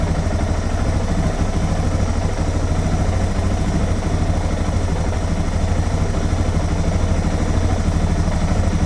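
A Suzuki DR650 motorcycle engine idles steadily up close, a constant low thumping rumble with no talk over it.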